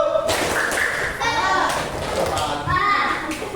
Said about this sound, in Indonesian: Tepuk semangat 1.